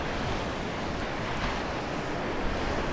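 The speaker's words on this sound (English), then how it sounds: "These waves have been wild this week" Rough, wind-driven ocean waves surge around a Florida fishing pier, making a constant heavy roar of surf mixed with gusty wind noise on the microphone, loud and steady without pauses.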